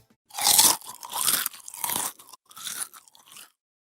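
Crunchy chips munched close up, four loud bursts of crisp crackling bites and chewing, with no talking.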